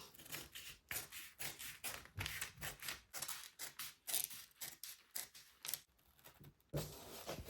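Scissors cut through corset fabric in a quick series of crisp snips and rustles, close and fairly loud, with brief pauses between strokes and no talking.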